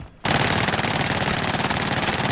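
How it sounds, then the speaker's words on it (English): Sustained machine gun fire in the Warzone video game, a loud continuous rattle of rapid shots that starts abruptly after a brief quiet moment and keeps going without a break. "Oh, they're shooting at me."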